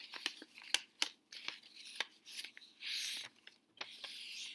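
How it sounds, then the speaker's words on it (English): Scissors snip through paper in a run of sharp, close cuts with a few longer slicing strokes, folding a paper flap along a cut line; quiet overall with no talking. "I'm cutting in on the L to make this fold"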